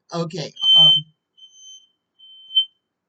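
A household smoke alarm beeps with thin, high-pitched electronic chirps, three short tones spaced apart. They follow a brief stretch of a person talking nearby.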